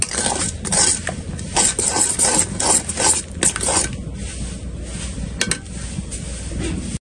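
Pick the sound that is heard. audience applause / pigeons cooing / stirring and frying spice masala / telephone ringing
stirring and frying spice masala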